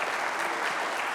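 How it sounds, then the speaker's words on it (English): Brief, lively applause from a live studio audience for a raffle winner, steady clapping with no voices. "How about a big round of applause for Bob Lenz"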